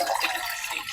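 Water running and dripping into a kitchen sink or container during home cooking of low-carb siomai and chicken pastil, a steady close splashing trickle with no talk.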